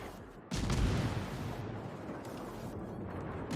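Naval guns of the Tier VIII British cruiser HMS Tiger '59 fire in World of Warships: a sudden deep boom lands early, followed by a low, rolling rumble that lingers at moderate distance, with no talk.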